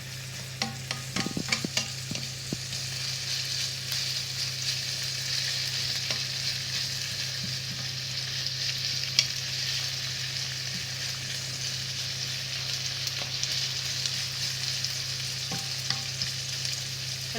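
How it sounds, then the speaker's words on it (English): Onions sizzle steadily in a frying pan with occasional stirring scrapes, a continuous close frying hiss with no talking. "Saute the onions until it is translucent."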